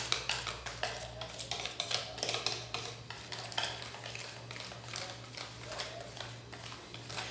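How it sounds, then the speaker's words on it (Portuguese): Fubá cake batter beaten by hand with a wire whisk in a bowl, giving a steady run of quick metallic clicks and scrapes with a constant low hum underneath and no voices. "vou misturar com o fouet"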